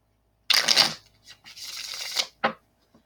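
Oracle cards riffled in a quick shuffle, then spread out, with crisp papery bursts followed by a softer sliding sweep and a final brief flick, close and clear in a quiet room.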